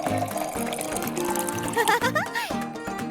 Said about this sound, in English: Looks like it's time to water our vase.